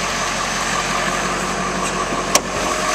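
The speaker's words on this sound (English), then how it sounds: "This truck sounds great and it runs very smooth." A 2011 Ford F-250 Super Duty Lariat crew cab with the 6.7L diesel engine runs at a steady, smooth idle, heard as a continuous even drone with one brief sharp click partway through.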